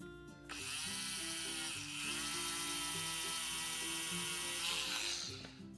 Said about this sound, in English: Use the drill one last time.